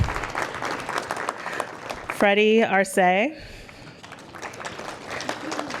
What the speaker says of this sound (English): can keep clapping as I call them